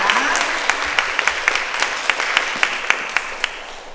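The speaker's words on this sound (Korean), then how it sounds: "큰 박수 부탁드립니다" Audience applause after a child's entry in a children's storytelling contest, loud steady clapping with several sharper, more distinct claps standing out rhythmically through the burst, and faint voices underneath.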